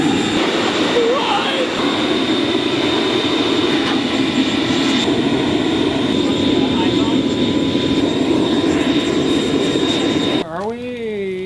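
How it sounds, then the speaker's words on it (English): Homemade charcoal blast furnace built from a BBQ, air forced in through a duct-taped pipe on a shop vac running in reverse, roaring as a steady, loud, broadband rush for about ten seconds before a brief shift at the end. "I duct taped this pipe to my shop vac, turned it on reverse, added some charcoal to the mix, and we were in business."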